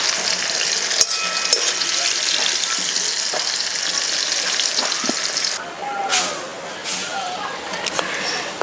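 Vegetables for khichuri fry lightly in hot oil, a steady close hiss and sizzle that runs throughout, with occasional stirring scrapes and a slight dip near the end.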